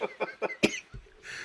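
A man coughs in a quick run of four sharp bursts, close and fairly loud, then a softer throat sound and quiet room tone.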